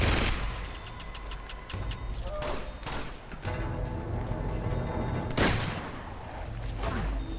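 Rapid bursts of automatic gunfire from Elena in Uncharted 2: Among Thieves, loud and continuous, with sharp volleys and a heavier blast partway through, layered over game battle noise.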